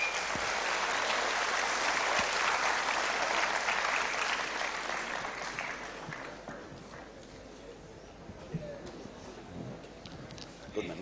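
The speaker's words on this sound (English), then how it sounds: "the people are clapping" An audience at a talk on Ind AS and risk management claps in a loud, sustained burst that fades into scattered claps and room noise.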